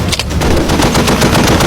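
An M2 Browning heavy machine gun fires a loud, continuous rapid burst, dense repeated reports running together across the whole stretch, close and overwhelming with no speech.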